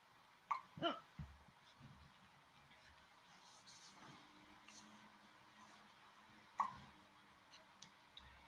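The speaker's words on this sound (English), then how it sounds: "Yeah, having a full spoon of that does come with hiccups," A person who has just swallowed a full spoonful of hot sauce lets out several sharp, brief hiccups, spaced irregularly over quiet room sound, with a couple close together early and one more later.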